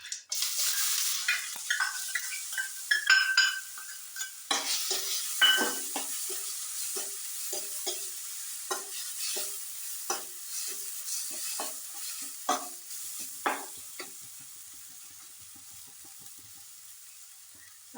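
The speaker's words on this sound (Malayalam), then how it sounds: "അതിനകത്തോട്ട് ചതച്ച് വെച്ചേക്കുന്ന ഇഞ്ചി, വെളുത്തുള്ളി, കുരുമുളക്, 2 ചുവന്നുള്ളി, ഇതെല്ലാം കൂടെ നമുക്ക് ഇതിനകത്തോട്ട് ഇട്ട് കൊടുക്കാം." Crushed ginger, garlic, black pepper and shallots dropped into hot oil with mustard seeds for Kerala rasam, giving a steady close sizzle dotted with many quick pops and crackles that thin out and fade over the span.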